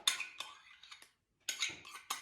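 A metal spoon clinks and scrapes against a bowl in quick, light strokes while stirring salad dressing, pausing briefly before a few more taps.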